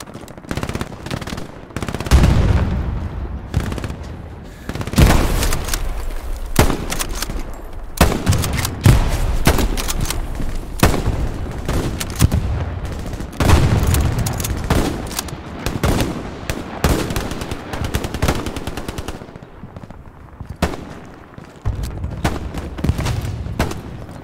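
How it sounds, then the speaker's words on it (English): Dense gunfire from a Stalingrad battle in the game Hell Let Loose, with an anti-material rifle among bursts of machine-gun fire, rapid rifle shots and deep booms, loud and nearly continuous with brief lulls. "This is fucking anti-material rifle."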